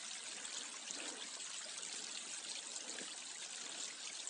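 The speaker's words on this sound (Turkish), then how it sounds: "Yol üzerinde de küçük dereler oluşmuş. Sular akıyor." Small streams of water trickle steadily across a stony mountain plateau road in Kütahya, a continuous soft, close wash of flowing water with no voices.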